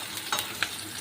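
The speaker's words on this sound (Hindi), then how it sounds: "ये देखिए गाइस कितने अच्छे से हो रहा है फ्राई।" Chopped onion sizzles in a hot pan for about a second, with a couple of soft stirring scrapes over the steady frying hiss.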